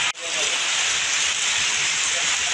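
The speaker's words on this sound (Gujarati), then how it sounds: "એક દિવસના વિરામ બાદ શરૂ થયો વરસાદ." Heavy rain pours down steadily in the Dabhoi area after a one-day break, making a dense, even hiss that fills the whole moment close to the microphone.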